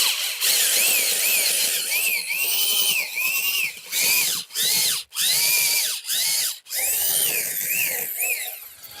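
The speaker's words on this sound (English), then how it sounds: "I'm digging through clay right here and it's grabbing this bit." A 3-by-34-inch garden auger bit driven by a power drill bores into clay soil, its motor whining loudly in repeated bursts that bog down and rev back up, with short pauses between pushes.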